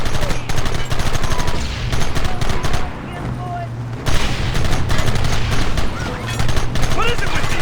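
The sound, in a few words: gunfire in the video game Red Dead Redemption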